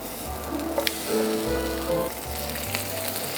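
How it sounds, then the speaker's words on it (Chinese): Apple slices frying in butter in a pan beside garlic bread, a steady soft sizzle with faint crackles running through the whole stretch, close and moderately loud with no talking. "放点牛油，把苹果煎一下。"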